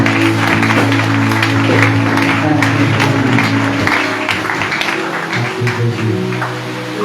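A church congregation applauds and cheers in a dense, sustained wash of clapping and voices during a Sunday service, mixed with a steady musical drone.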